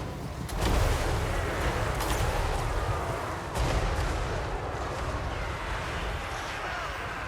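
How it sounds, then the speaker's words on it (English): Heavy artillery fire rumbles continuously in a Total War: Warhammer 3 battle, with several loud booming impacts standing out over a dense, roaring battlefield din. "Currently, the artillery is focused on the incoming blob of infantry."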